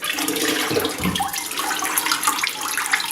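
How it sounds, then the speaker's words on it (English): Liquid brine pours out of a turkey into a kitchen sink, a continuous loud splashing gush of water with small gurgles and a brief thud near the start. "We're getting all of that brine out of the turkey."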